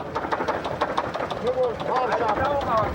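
A truck engine idles with a rough, rhythmic knocking pulse, thought to come from a faulty piston number 6 on an expedition, as people talk over it throughout.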